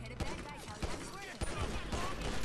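Quiet, rapid gunshots crack in quick irregular bursts during a GTA V NoPixel roleplay firefight, with several sharp reports spread across a short stretch.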